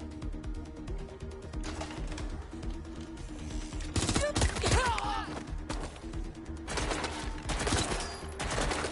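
Bursts of submachine gun fire in Watch Dogs Legion on PS5, rapid crackling shots mixed with game music and impact crashes, loud and continuous.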